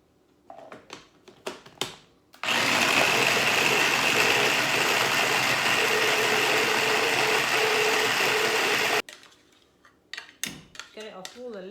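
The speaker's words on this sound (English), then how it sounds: "after I finished grinding all the garlic, so I've still got some more here" A hand-cranked garlic grinder runs in one steady, loud mechanical whir for several seconds, with brief clatters of handling before and after.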